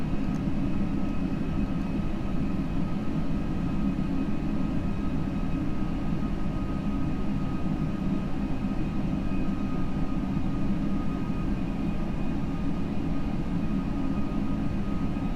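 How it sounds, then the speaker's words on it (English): Spoilers deploy on an Airbus A320 in a flight simulator, heard as a steady, loud, low cabin rumble with a faint whine above it, unchanging throughout and without speech. "Spoiler sound."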